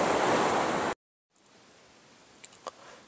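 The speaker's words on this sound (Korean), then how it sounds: "여기 바닷가 임랑 해수욕장인데" Ocean waves at Imrang beach on the East Sea, with the beach nearly empty before the season opens: a loud, steady wash of surf that cuts off abruptly, followed by faint ambience and a couple of small clicks.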